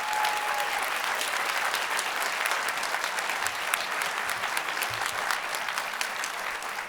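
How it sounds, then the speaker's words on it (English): An audience at a food festival applauds, a dense, steady round of clapping from many hands that holds evenly for several seconds without voices. "So let's give the Culinary School a round of applause."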